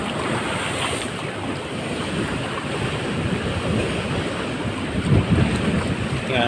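Strong sea waves surging at the Banton Boulevard pier during flooding, a steady loud roar of surf with wind buffeting the microphone and a louder swell near the end.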